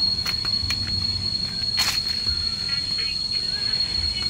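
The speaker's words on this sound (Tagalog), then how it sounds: "Dami kuliglig." Many cicadas drone in the forest on Mt. Makiling, with a steady high-pitched buzz running continuously throughout, along with other sharp insect chirps and faint background noise.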